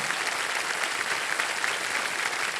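Steady, dense applause from a studio audience on a quiz show set, continuous and fairly loud throughout with no speech over it.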